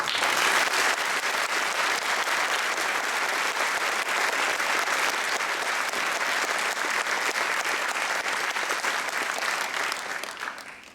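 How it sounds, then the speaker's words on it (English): Graduation audience at Middlesex County Academy gives a round of applause, dense, steady clapping from a large crowd that carries on strongly for about ten seconds before fading out. "Please join me in recognizing Mr. Methner's contribution to your education with a round of applause"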